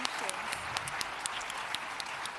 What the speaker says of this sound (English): can we please just give my panelists a round of applause?